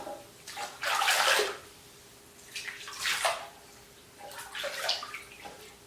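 Bath water splashed up onto a face in a filled tub, three separate bursts of near splashing and sloshing with quiet pauses between, no talking.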